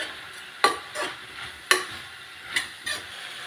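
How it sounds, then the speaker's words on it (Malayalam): A spoon stirs turmeric and Kashmiri chili powder into a sautéed Kerala cluster-bean curry: four or five sharp scrapes against the pan over a low, steady sizzle, close and alone. "ഒന്ന് ഇളക്കി കൊടുക്കാം."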